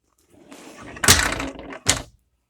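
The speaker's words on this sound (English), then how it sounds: "Pocket doors, pull down," A motorhome pocket door is pulled down to unlatch it, a soft sliding rub followed by a solid thunk and a second sharper clack close by.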